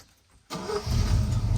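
A car engine with a freshly rebuilt GM 2-barrel carburetor catches after a brief crank, firing at once and settling into a loud, steady close-up idle.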